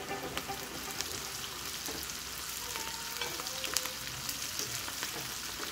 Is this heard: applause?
no